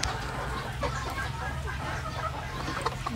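A crowd of hens clucks continuously at an ostrich farm, with overlapping, busy chatter from many birds close by.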